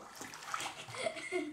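Hot water runs steadily from a tap into a bathtub, a continuous close rushing hiss with faint splashing, while a voice and light laughter come and go over it.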